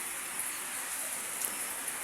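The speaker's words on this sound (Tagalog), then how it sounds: "Ang lakas-lakas po ng ulan dito." Heavy rain pours down in a dense, even hiss that stays steady and fairly close for the whole short stretch, with no voices.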